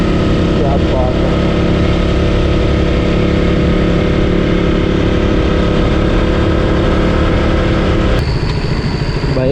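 A motorcycle rolls slowly along a cool hill road in Biligiriranga Hills, its engine giving a steady, close low rumble mixed with wind rush, with a brief shift in tone near the end.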